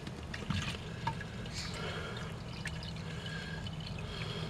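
Rainwater poured into a jug holding a small amount of fertiliser, a steady soft trickle and splash running throughout at close range, with no talking.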